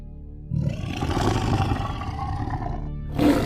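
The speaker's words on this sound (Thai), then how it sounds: "ฝั่งสมิงร้ายทั้งสามได้กลับมาดูร่างสมิงสาวที่นอนตายอยู่ แล้วจึงคำรามขึ้น ด้วยความโกรธแค้น" Three tiger spirits (sming) roar in anger in a long, loud, rumbling roar that builds and holds, then a fresh roar surges at the end.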